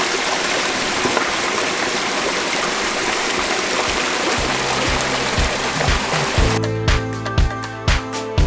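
Drained water pours continuously into a drainage pipe at a log cabin renovation, a broad steady rushing flow close by, with rhythmic clunking thumps coming in toward the end.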